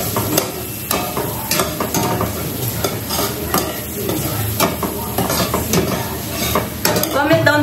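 Garlic sizzling steadily as it sautés in a pan, with a utensil scraping and clinking against the pan in an irregular stirring rhythm, close and loud, no voices.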